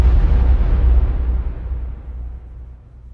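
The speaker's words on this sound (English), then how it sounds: "In case you didn't notice, the bomb exploded." A bomb blast in the horror game Ghost Supermarket: one loud, deep explosion at the start that rumbles on and slowly fades over about three seconds, with no voices.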